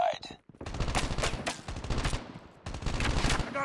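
Rapid automatic gunfire in Call of Duty's hardpoint mode, loud close bursts of shots rattling in quick rhythm with a brief pause midway, continuing almost without break.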